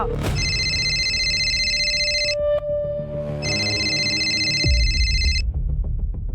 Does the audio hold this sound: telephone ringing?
yes